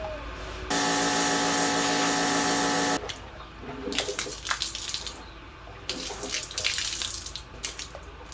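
Water gushes steadily from a tap into a rusty 1984 Honda Sabre motorcycle fuel tank, loud and continuous for about two seconds, then gives way to quieter sloshing and rinsing splashes.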